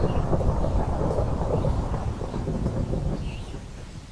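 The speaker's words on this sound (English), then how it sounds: "Why is it thundering like crazy?" Thunder rumbles during a Minecraft hunger games match, a loud, continuous low roll with rain-like hiss that slowly fades across the stretch, with no speech.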